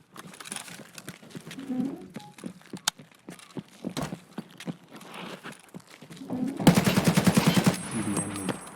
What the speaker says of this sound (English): That explains the shooting in here.